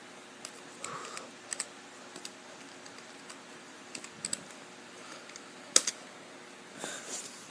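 Keys clack one at a time on a USB keyboard plugged into a Samsung Galaxy S3 Android phone, an irregular scatter of close, quiet taps in a still room.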